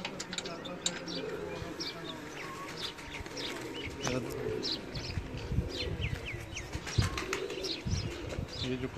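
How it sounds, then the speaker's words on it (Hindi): Salara pigeons coo low and steady amid scattered chirps and an occasional flutter of wings, with people talking nearby. "सलारा कबूतर।"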